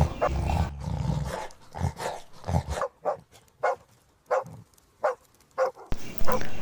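Cartoon dog barking in a string of short, punchy bow-wow bursts with brief gaps between them, loud and close, with some growly rumble early on.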